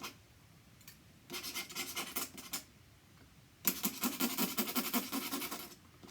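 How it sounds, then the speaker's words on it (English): An ink pen scratches and rasps across paper while a creature is being drawn, two energetic bursts of rapid scribbling separated by quieter pauses, close and fairly soft, with no talking. "Sorry about the noise, but I kind of get a little bit passionate when I'm drawing."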